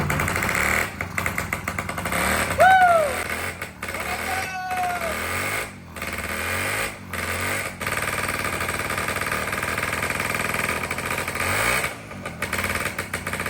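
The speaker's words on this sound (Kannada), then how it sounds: "ಫೈನಲ್ ಆಗಿ ಲೂನಾನ ಸ್ಟಾರ್ಟ್ ಮಾಡ್ತಾ ಇದ್ದೀವಿ." A TVS Luna moped, left standing unused for about twelve years, starts up and idles with a rapid, buzzing engine chatter that runs steadily and close by, with a few brief squeaks and short dropouts.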